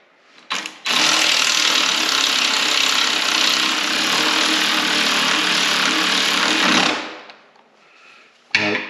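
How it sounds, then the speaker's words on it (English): Power wrench tightening rear shock bolts on a 2024 Harley Davidson during a suspension install, one loud continuous whirring burst of about six seconds, close up, followed by a brief short blip at the end. "I'm gonna use my wrench here to tighten these up a little faster."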